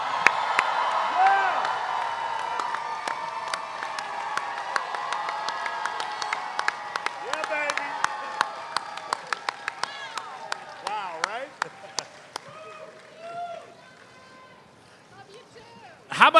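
An audience applauds and cheers for Ming-Na Wen, Fennec Shand of The Mandalorian, at a live talk show taping. Steady clapping with sharp individual claps and whoops runs loud, then thins and fades out over about sixteen seconds.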